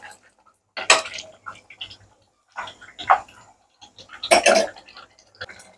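Mango pickle being mixed into a meat curry in a pot: irregular bursts of spoon scraping and clinking against the vessel, loud and close, separated by short quiet gaps.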